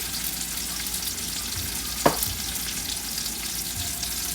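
Okra and tomato stir-fry in a hot pan with a steady, bright sizzling hiss and a single clack of a utensil stirring midway, with no talking.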